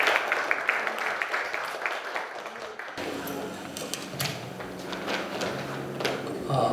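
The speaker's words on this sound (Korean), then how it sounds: "박수로 부탁드리겠습니다" An audience at the opening ceremony of a Syngman Rhee school in the USA applauds to welcome a lecturing professor. The clapping is dense and steady for about three seconds, then gives way to room noise and talk.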